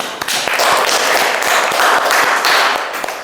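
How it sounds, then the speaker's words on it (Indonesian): Classroom audience applause for a student group at a microteaching session, steady dense clapping from many hands, fairly close and loud, fading slightly at the end. "Bisa kita beri aplaus."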